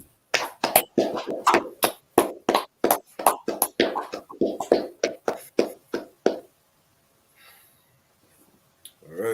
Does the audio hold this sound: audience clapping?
yes